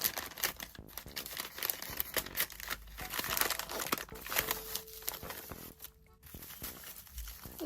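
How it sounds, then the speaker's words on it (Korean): Sparkly photocard packaging torn and crinkled open by hand, close crisp crackling and rustling bursts of plastic wrap in quick irregular runs, no talking. "그 다음에 이 반짝 뜯어볼게요."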